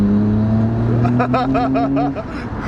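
A 1994 Nissan R32 GTR on semi-slick tyres accelerates hard on a wet road, its engine note climbing steadily as it pulls, loud and close, with indistinct voices briefly over it.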